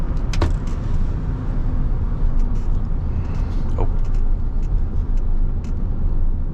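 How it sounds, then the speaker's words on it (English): A 2000 Chevy Silverado 1500 V8 with 44k original miles drives along, its deep, steady engine rumble filling the cab with a continuous low drone. "It just pulls really nice and strong. Has that deep V8 throttle body sound."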